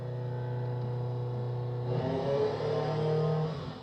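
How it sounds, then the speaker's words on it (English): A simulated car engine revs through gear changes, a steady mid-pitched drone that shifts abruptly into a higher, rougher rev partway through, then holds before easing off. "Now let's simulate gear changes."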